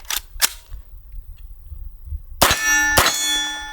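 A 9mm Palmetto State Armory AKV fires at steel targets outdoors, with two sharp shots early, then a pair of loud shots whose bright metallic clangs ring out and fade.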